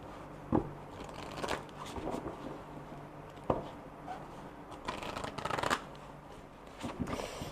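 Tarot cards being shuffled up close, repeated riffles and soft slaps of the deck in uneven bursts, fairly quiet with no talking.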